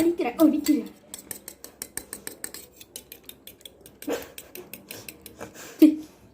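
Eggs are beaten in a bowl for French toast, heard as a rapid, steady series of light clinking and tapping strokes of utensil against dish, with a few louder knocks near the start and end.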